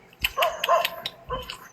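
Dogs at a Thai temple bark nearby in a short run of sharp, yipping barks, several in quick succession and then a final pair after a brief pause.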